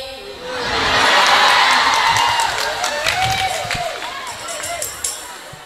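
Audience applause and cheering from a crowd in a hall during a children's introduction event, a broad sustained wash of clapping swelling early then continuing steadily with some whoops, fairly near and loud.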